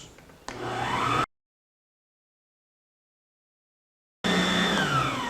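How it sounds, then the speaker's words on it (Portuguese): Electric mixer beating chocolate cake batter in a small bowl, a steady close whirring drone that cuts out abruptly, falls silent for several seconds, then starts up again just as loud. "Vou dar uma misturada aqui para ajudar a batedeira. Agora vamos bater 2 minutos."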